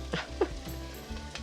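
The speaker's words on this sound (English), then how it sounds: "now the meatballs are going back in the pan" Browned Swedish meatballs being set back into a hot pan, giving a low, faint sizzle with a few soft knocks and spoon scrapes over a short stretch.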